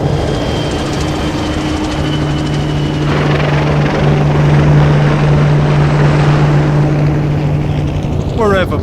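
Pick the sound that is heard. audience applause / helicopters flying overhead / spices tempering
helicopters flying overhead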